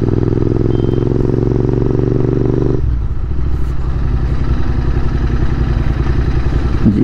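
A Royal Enfield Continental GT 650 motorcycle on the move, its engine a loud, close, steady drone that shifts to a lower, rougher tone partway through, with no talk.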